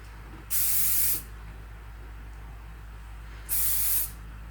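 Two loud, close hissing bursts of hairspray onto a vintage pinup hairstyle, each lasting under a second, with a quiet gap between them.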